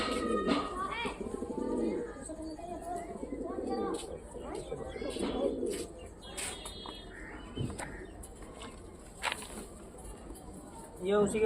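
Pigeons, including red-necked and black-beaked birds, coo in a loft in Meerut, with soft, repeated calls running throughout under fairly steady close talk.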